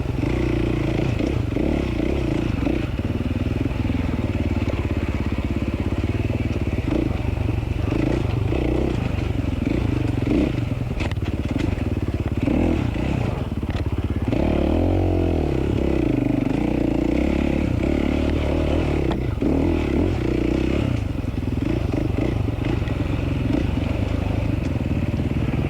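An enduro motorcycle churns along in first gear at a hard enduro race, engine droning continuously with the clutch slipping, surging revs and rattling clatter up close throughout.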